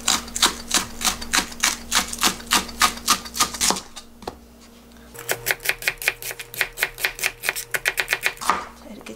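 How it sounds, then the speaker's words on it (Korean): A knife chops green onions finely on a cutting board in quick, even taps, pausing briefly midway before resuming at a faster, steady rhythm. "요거를 좀 잘게 썰어주겠습니다."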